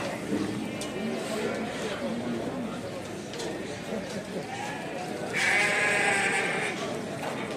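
Yearling sheep bleat amid the murmur of a busy crowd at the Kadirli livestock market, with one loud, close bleat standing out near the end.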